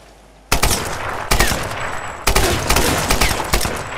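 Machine gun fire in the video game Tomb Raider: loud, dense bursts of rapid shots in three long strings after a short quiet start, with no talking over them.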